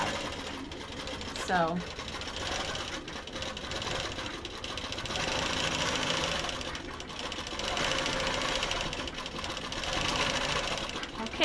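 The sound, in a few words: quilting machine stitching a pantograph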